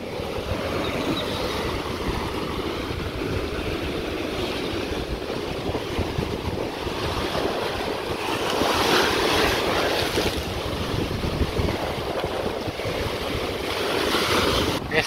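Strong sea waves crash and surge without pause against a damaged shore well, a loud, rough, rushing roar mixed with heavy wind buffeting the microphone and no talking.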